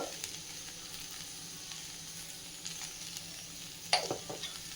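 Okra with salt sizzles quietly in a pan, a soft steady frying hiss with occasional faint stirring scrapes and one sharper spatula knock near the end.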